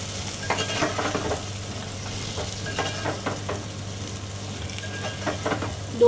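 Capsicum and potatoes sauté in a pan with red chilli powder, a soft steady sizzle broken by scattered scraping strokes of a spoon, close but fairly quiet, with no talking.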